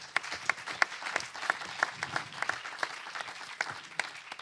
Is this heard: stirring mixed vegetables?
no